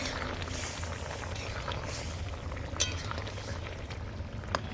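Vegetables simmer in a pot for a sour rohu fish curry with raw tamarind. A soft, steady bubbling runs throughout, with a few faint metallic clinks on top.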